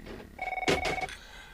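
A telephone ringing, one short electronic trill ring heard close and clear.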